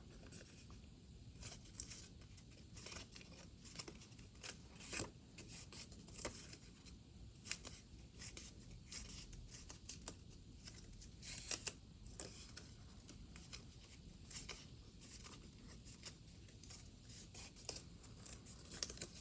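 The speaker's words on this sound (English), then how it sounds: "I'm going to fold on all of my score lines" Cardstock for a keepsake mini album is folded along its score lines, giving faint, close crisp creases and papery rustles in a steady, irregular patter with no talking.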